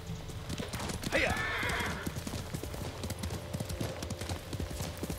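Rhythmic hoofbeats clatter steadily at a gallop in the video game Ghost of Tsushima, with a brief horse whinny early on and a low game ambience underneath.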